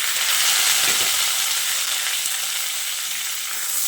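Eggplant, tomato, beans and green chili sizzle in hot oil alongside potato and radish, a dense steady frying hiss with a couple of soft stirring knocks, close and unbroken, no speech.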